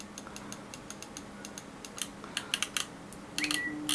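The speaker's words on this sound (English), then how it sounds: "and scroll click" Scroll-wheel click on a G-Wolves HTS Plus 4K gaming mouse fitted with a black scroll wheel, a series of sharp, close, light clicks that quicken and cluster toward the end, heard alone in a quiet room.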